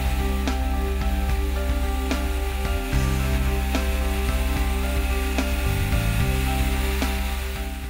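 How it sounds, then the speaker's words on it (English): A power sander works over the wooden body of a piano being refinished, giving a steady, humming machine drone with a faint scratchy rasp and small periodic knocks throughout. "I began the sanding already with some of the pieces that I took off"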